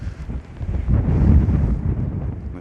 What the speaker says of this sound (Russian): Начинается прям сильный ветер.